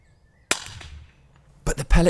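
A Weihrauch HW77 air rifle fires at a rabbit during a field stalk: one sharp, close crack with a short fading tail, then a second of quiet before louder rustling bursts.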